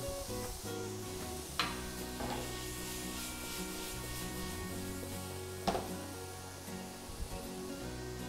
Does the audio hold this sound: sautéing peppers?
yes